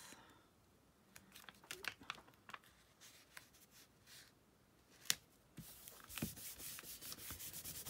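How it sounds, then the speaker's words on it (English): A friction pen's eraser rubs out marks on paper in a birthday book, soft close scratchy rubbing strokes in short bursts with a few sharp taps, then a quicker steady rubbing run near the end, faint overall. "Just need to rub out my marks with my friction pen."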